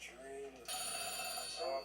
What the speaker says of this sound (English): the old switchboard system. That's what keeps ringing in the house.